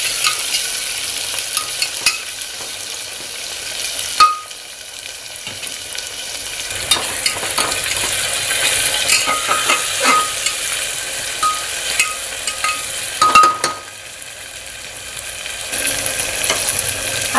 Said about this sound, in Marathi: आणि हा मसाला एकसारखा भाजून घ्यायचा आहे।